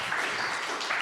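Applause from a forum audience on interactive tech ethics, a brief dense patter of many hands clapping at a steady, moderate level with no voices over it.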